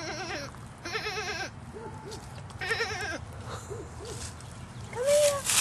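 Goats bleat several times in wavering, nasal calls, some near and some farther off, over outdoor background noise with a shrill cry at the end.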